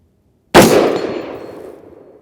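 A single Magtech 5.56 77-grain rifle round fired from a 10.3-inch barrel: one sharp, loud report after a moment of silence, then a long ringing decay fading over nearly two seconds.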